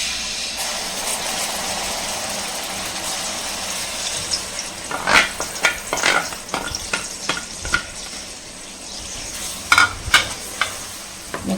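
Onions frying in oil for keema, a steady close sizzle that grows busier midway with loud clattering spatula strokes and scraping against the pan, no speech.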